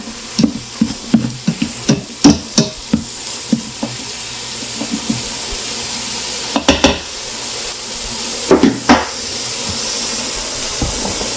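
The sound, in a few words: green pepper sautéing and being stirred in an Instant Pot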